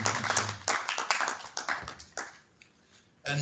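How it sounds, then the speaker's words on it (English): Applause at an awards ceremony fills the room as a dense crowd of clapping, staying strong for about two seconds and then thinning to a few scattered claps before a brief fresh burst. "A round of applause."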